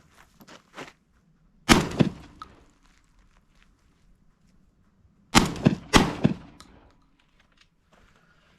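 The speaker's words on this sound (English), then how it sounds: "Last round's fired." Citadel Bosshog shotgun fired at targets outdoors, two separate loud blasts spaced a few seconds apart, each followed by short echoing rattles, with faint scattered clicks and handling noise between them.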